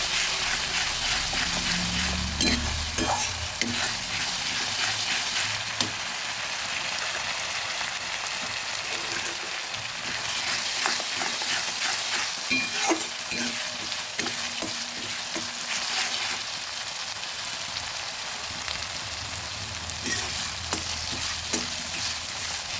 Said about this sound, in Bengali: আদা রসুনটা ভাজা হয়ে গেছে